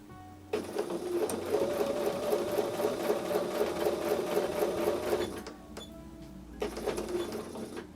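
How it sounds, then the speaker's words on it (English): A sewing machine stitches along a quilt seam on a Christmas table runner in two bursts, a rapid close mechanical whir for about five seconds, a pause, then a shorter run. "I'm just lining the edge of the presser foot along the seam and I'm following it."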